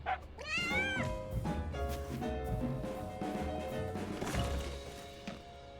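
A cat meows and caterwauls loudly and up close in a cute, cartoon-style cat video game, several rising cries over game sounds and thuds.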